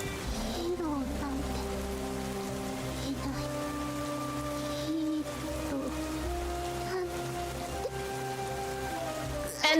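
Steady, heavy rain in a video game pours without a break while soft sustained musical tones drift over it.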